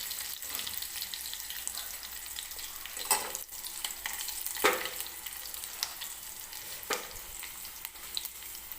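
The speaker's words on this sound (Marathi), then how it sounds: "कढीपत्त्याची पानं, हलवून घेते म्हणजे लसूण सुद्धा एकसारखा तेलामध्ये भाजेल" Garlic and curry leaves frying in hot oil while being stirred, a soft continuous sizzle broken by a few louder spoon scrapes against the pan, fairly quiet and without talk.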